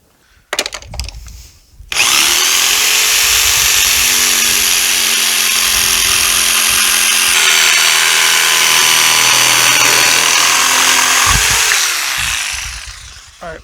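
Power saw cutting a neck opening in wood for a homemade goat milking stand, a loud sustained high-pitched whine for about ten seconds after a few preliminary knocks, then spinning down at the end.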